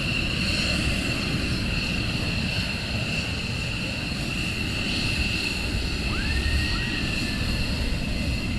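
USAF F-15 fighter jets of the 494th at RAF Lakenheath taxi out after hot-pit checks, their engines making a steady, loud roar and whine that continues without a break.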